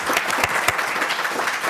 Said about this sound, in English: really think they deserve a round of applause.